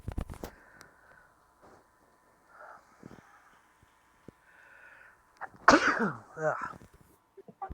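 A sharp, loud sneeze bursts out near the end, following scattered quiet talk and small sounds from a group chatting during an online game session.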